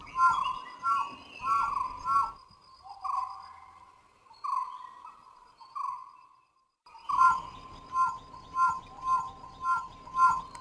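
A dhole in an Indian forest gives clear, high whistling calls to waiting pups, repeated in rhythmic bursts with a quiet gap midway, close and distinct over a faint background.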